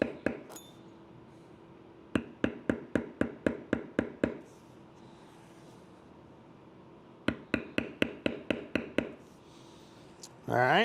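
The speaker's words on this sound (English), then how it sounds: "Now I can go and tool or bevel the top of this scroll." Sharp taps of a metal bevel tool striking leather being tooled for a canteen purse, arriving in two quick rhythmic bursts of about eight to ten hits each, close and crisp, with quiet pauses between.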